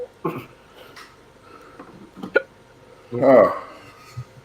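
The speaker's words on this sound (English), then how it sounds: "It helps with your hiccups too, doesn't it" Hiccups from a person during a casual Saturday morning coffee chat, a few short, sharp vocal bursts spaced irregularly, one stronger near the end, with faint voices and room noise around them.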